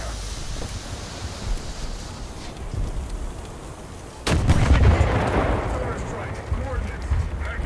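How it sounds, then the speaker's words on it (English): Artillery explosions from a War Thunder tank battle, with a muffled rumbling boom and then a sharp, heavy impact midway that leaves a dense, crackling roar trailing off, all heard through steady low background noise. "Artillery strike in all sectors."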